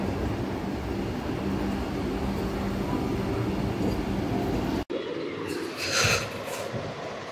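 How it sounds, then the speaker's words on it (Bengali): A saffron-coloured Vande Bharat train at Varanasi station gives a steady rumbling roar of rail noise, loud and continuous, before an abrupt cut to quieter station ambience with a brief higher whine. "ঠিক তখনই দেখতে পেলাম আমাদের দেশের গর্ব গেরুয়া রঙের বন্দে ভারত ট্রেন"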